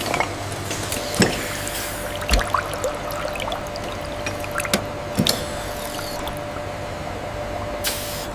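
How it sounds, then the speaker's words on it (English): Perfume is poured into glass bottles on a French fragrance factory filling line, giving soft liquid trickles and squishy drips punctuated by sharp clinks and taps, with a steady machine hum underneath. "We ensure each bottle is filled to the exact amount to avoid waste and maintain consistency."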